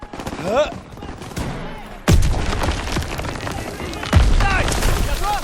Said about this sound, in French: Les coups de feu.